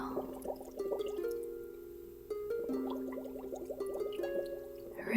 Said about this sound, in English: It sighs as you wring it out, droplets pattering softly